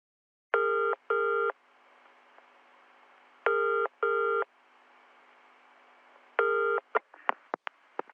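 Telephone dial tones sound in three short paired bursts with a quiet hiss between them, followed by a rapid series of sharp clicks at the end, all in a quiet setting without talk.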